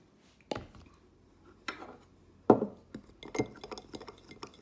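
A spoon stirs a rough, shaggy mixture of all-purpose flour and water for a sourdough starter in a bowl, making several distinct clinks and scrapes against the bowl with quiet pauses in between.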